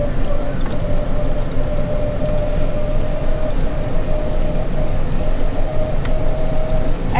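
Car driving along a road toward an ancient city in Thailand, a loud constant engine and road rumble with a faint high tone, people talking over it.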